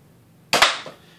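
A toy cap gun fires a single sharp crack, with a softer second pop just after, in a home shooting gallery set up for target practice; the report is close and loud against an otherwise quiet room.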